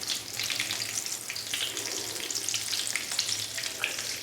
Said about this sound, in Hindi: एक साइड को हमने 2 से 3 मिनट के लिए फ्राई कर लिया